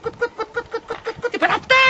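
A voice imitates a small black hen clucking, giving a steady run of about a dozen short, evenly spaced clucks. It rises into a louder squawk near the end and stands alone, close and clear.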